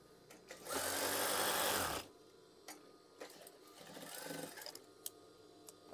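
A sewing machine stitches a green curtain tie in one steady, loud burst of about a second, then a quieter, softer run of stitching after a pause, with small handling clicks in between.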